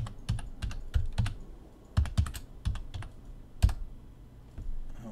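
A password is tapped out on a computer keyboard, close and clear, in short irregular bursts of keystrokes with brief pauses between them and no voices.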